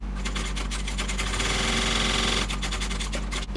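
A sewing machine runs steadily while top stitching a handbag, giving a loud continuous mechanical whir with a rapid needle rhythm that holds throughout, with no voices.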